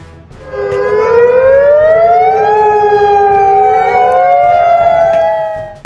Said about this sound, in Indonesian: sirine gelombang tinggi berbunyi serentak di wilayah pesisir